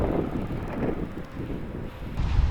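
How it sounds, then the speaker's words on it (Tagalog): Strong wind among pine trees buffets the microphone with a steady, loud low rumble and gusty roar throughout, swelling again at the end. "ang lakas ng hangin dito"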